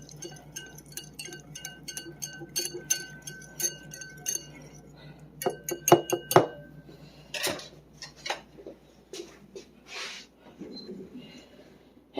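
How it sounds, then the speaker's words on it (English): A small whisk beats ingredients in a bowl, giving quick metallic clinks and rattles in irregular bursts, close by and fairly loud, sometimes with pauses between strokes. "take this little whisk and mix it all together"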